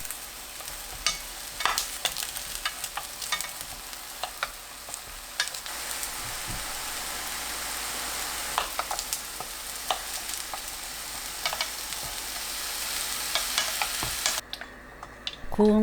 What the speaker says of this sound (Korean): 올려 앞뒤 노릇하게 구워주세요. 가지를 천천히 구우면 단맛과 고소함이 확 살아납니다.